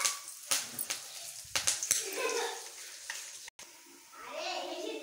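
Dried chilies, peanuts and curry leaves fry in oil in a kadai, a steady near sizzle with sharp crackles and spatters early on, briefly cutting out before the frying resumes.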